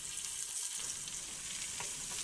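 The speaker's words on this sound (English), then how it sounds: "Let's start by frying up a little garlic with some olive oil, and we're going to add 1 shrimp." A single shrimp fries with garlic in olive oil, giving a steady, close crackling sizzle without a pause through the short clip.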